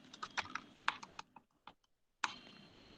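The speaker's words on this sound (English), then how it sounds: "I'm typing something" Keys clatter on a computer keyboard in quick, uneven bursts of close, crisp taps, pausing briefly before a few final keystrokes.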